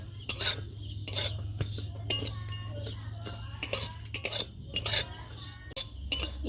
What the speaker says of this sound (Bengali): কড়াটা বসিয়ে দেব, দিয়ে আমি হালকা একটু ভাজা ভাজা করে নেব